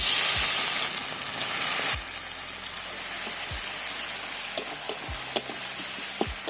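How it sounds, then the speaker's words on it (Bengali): Four green chillies and chopped tomato frying in hot oil in a kadai, a loud sizzle that settles to a steady crackle, with a few sharp pops near the end and no talk. "কাঁচা লঙ্কা আর টমেটোটা একটু ভেজে নেব।"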